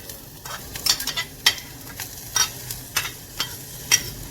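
Chopped spring onions sizzle in hot oil while a utensil stirs and scrapes the pan in repeated short strokes, close and clear, no talking.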